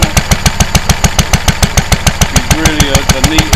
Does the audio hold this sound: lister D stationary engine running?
yes